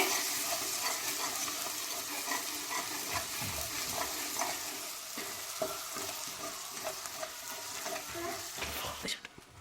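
Steady sizzling of ginger and garlic frying in hot oil for fish curry, with repeated scraping and stirring strokes throughout, close and continuous.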